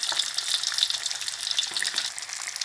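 Sun-dried climbing perch deep-fries in fresh oil over medium heat, a dense, continuous crackling sizzle close up with bright popping spatters throughout and no voices.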